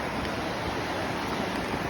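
The Devil Track River runs as a steady, broadband rush of flowing water, constant and fairly close, with no voices over it.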